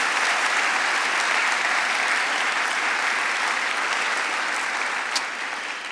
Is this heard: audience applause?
yes